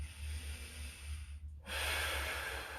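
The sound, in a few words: breathing during stretching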